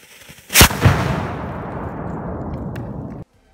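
A homemade sugar-fuel rocket motor packed in a shotgun shell bursts from built-up pressure: one sharp loud bang, a second thump just after, then a long roaring hiss that cuts off abruptly.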